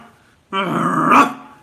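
A person's voice imitates a small dachshund on a leash growling, a single sustained rough snarl of about a second that starts abruptly after a short pause and swells slightly before trailing off.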